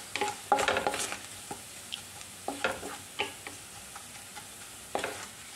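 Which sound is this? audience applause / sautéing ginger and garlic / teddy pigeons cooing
sautéing ginger and garlic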